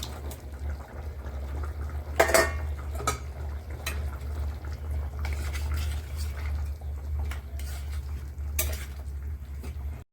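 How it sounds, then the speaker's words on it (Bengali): Fried fish goes into a pot of simmering taro (mann kochu) curry, with a sharp clink of a utensil on the pot and soft stirring over a low, steady bubbling. "এখন দিয়ে দেবো ভেজে রাখা মাছ,"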